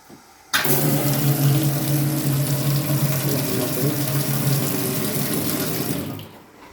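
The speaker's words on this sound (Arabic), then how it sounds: "المية شغالة كويس، مية عمومي هنا" Water runs steadily from a tap in an apartment for sale, starting abruptly and flowing loud and close as a continuous rushing stream before tapering off near the end.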